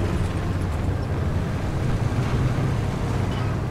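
An underpowered engine in a light Italian tank destroyer tankette in War Thunder drones steadily with a dense, rumbling low roar, loud and unbroken throughout, with no talking.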